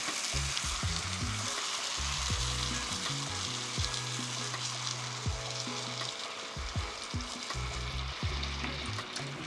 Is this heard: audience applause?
no